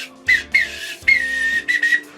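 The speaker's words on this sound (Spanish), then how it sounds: "este silbato podemos hacer sonidos intermitentes como esto, mira." A handheld whistle sounds in short and longer intermittent blasts of Morse code, five sharp shrill bursts close to the microphone with brief gaps between them.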